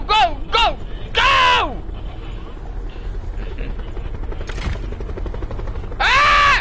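A helicopter in a video game sets up a steady low rumble beneath excited shouting voices and sharp exclamations that break in repeatedly.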